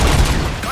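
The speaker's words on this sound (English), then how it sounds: "Gunshots? What's going on?" A dense burst of rapid gunfire crackles and booms, loud and close, blending into a noisy rumble.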